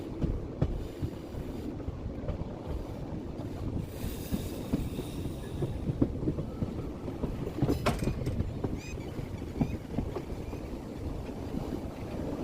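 Passenger train hauled by locomotive 49027 running on the line toward Viramgam Junction, a steady loud rumble of wheels and carriage noise with occasional clanks and rattles throughout.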